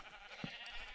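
Single short sheep bleat from a Minecraft sheep, brief and moderately close, standing out over a steady low ambient hiss with no talking.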